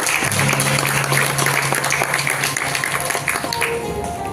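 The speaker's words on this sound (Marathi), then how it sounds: "तुमच्यासाठीच्या जोरदार टाळ्या मी आधीच वाजवून घेते" Crowd applause at a film trailer launch event, loud and dense clapping filling the hall steadily for several seconds, with faint voices and a brief tone underneath.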